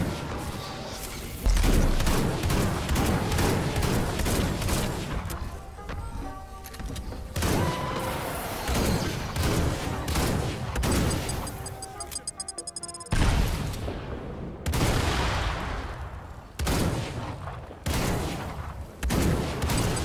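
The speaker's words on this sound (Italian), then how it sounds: "semplicemente un pompa con il raggio appunto un pochino più ampio riuscirà a colpire il gruppetto di zombie" Dragon pump shotgun in Fortnite Save the World, booming shots fired at a group of zombies, spaced irregularly over about 20 seconds amid game effects and a talking voice.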